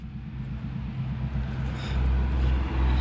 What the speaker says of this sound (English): ooh, that was a loud truck